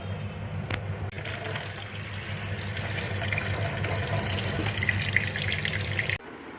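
Tap water runs and gushes steadily into a kitchen sink while something is washed before boiling for a home-cooked mutton dish, stopping abruptly near the end.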